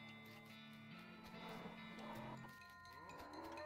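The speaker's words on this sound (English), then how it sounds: "I think this must be where the cows came from when they came home." Cows mooing in the West of Loathing video game, a long, low drawn-out moo with overlapping calls. The sound is steady and faint and continues throughout.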